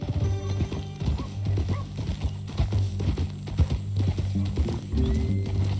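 A horse in Red Dead Redemption 2 whinnies and hooves clip-clop in an uneven rhythm, close and clear, with some rustling movement around them.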